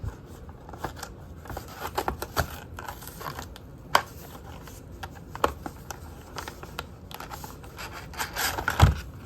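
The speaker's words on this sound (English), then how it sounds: "So let's open this thing up. Pop that card out, I suppose." Unboxing of a 1/64 scale John Deere 9510RT toy tractor, with close crinkly plastic and cardboard rustling, scraping and sharp clicks as the card insert is popped out of the packaging, no talking.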